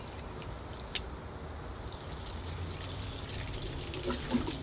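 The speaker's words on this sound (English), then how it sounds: "here I go with the water" Water poured onto a ficus bonsai tree's soil, a continuous soft trickling and splashing stream, moderately close and steady throughout, with no speech.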